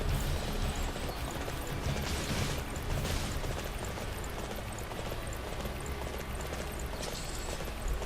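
Horse hoofbeats in a battle video game, a steady clip-clop running under a dense, loud wash of combat noise with booms and gunfire-like bursts throughout.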